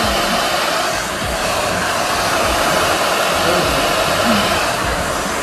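A hair dryer set to its blue mode blows steadily and loudly at close range while drying hair, a continuous broadband whoosh with no voices.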